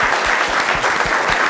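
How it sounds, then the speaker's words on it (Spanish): An audience at a panel discussion breaks into dense, sustained applause, a steady wash of many hands clapping at once that holds for the whole moment. "voy a invitar un aplauso primero para los cuatro"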